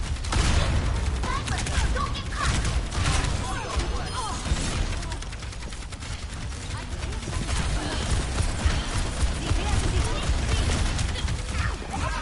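Dense, continuous rapid gunfire and impact clatter from an Overwatch 2 match, loud and sustained throughout, with players' voices talking over the fighting.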